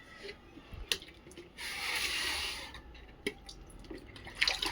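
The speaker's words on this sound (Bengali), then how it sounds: "আজকে কার্পেটটা একটু সাবান জল দিয়ে ভিজিয়ে দেবো" Soapy water poured to soak a carpet for washing, a soft steady splashing stream lasting a couple of seconds between quiet drips and small handling knocks.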